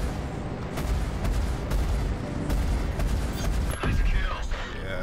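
Gunfire from the space-combat video game Star Citizen crackles in a dense, continuous barrage of rapid shots and booms, fairly loud and steady throughout the few seconds, with no clear talk over it.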